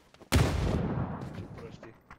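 A grenade explodes in the battle-royale shooter PUBG: one loud, sudden blast that rumbles and fades over about a second, followed by quieter in-game noise.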